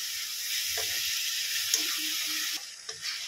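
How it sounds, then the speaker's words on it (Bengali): Tomato masala frying in oil for potol korma, a steady close sizzle with soft scraping and bubbling pops from stirring near the end. "যতক্ষণ না টমেটোর গন্ধটা যাচ্ছে ভালো করে কষিয়ে নেব।"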